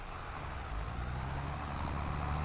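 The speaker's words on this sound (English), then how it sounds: "This plow is just absolutely murdering this tractor." A tractor engine in a farming video game labors under load while pulling a plow, a continuous low, heavy drone that holds steady and swells slightly partway through.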